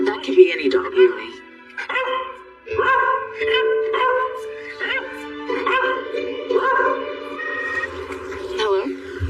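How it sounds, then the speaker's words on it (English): A dog barks and yips in a short series of sharp barks mixed with whimpers, fairly close and loud, with a voice talking over part of it. "That could be any dog, really."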